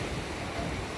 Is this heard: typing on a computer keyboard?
no